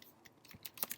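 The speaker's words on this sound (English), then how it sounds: "So I'm going to begin by typing it in to my browser" Quick, light keystrokes on a computer keyboard, several faint clicks in an uneven rhythm over a soft background hiss.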